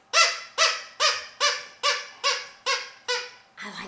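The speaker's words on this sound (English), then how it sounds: "So I'm going to use my dog's toy." A squeaky dog toy is squeezed about eight times in a steady, even rhythm, each squeak loud, close and bright, followed by a rougher final squeeze, with no talking.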